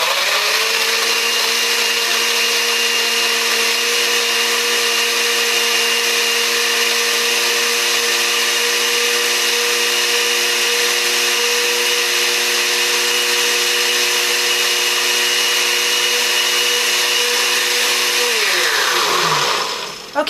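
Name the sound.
blender mixing chopped carrots for juice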